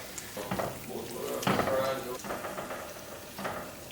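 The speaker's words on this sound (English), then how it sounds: "I'm just gonna add these to our stir fry." Garlic shiitake green beans go into a hot pan with beef and peppers for a stir fry, setting off a steady close sizzle with scraping and stirring under it.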